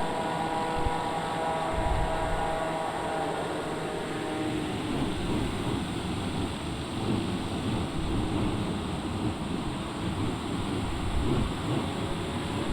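A TBM930 turboprop on landing roll with reverse thrust, a loud broad roaring rush with steady engine tones fading into dense wind-like noise throughout.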